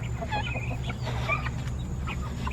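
Backyard hens, including bantams, clucking nearby in a series of short, irregular calls over a low, steady background hum.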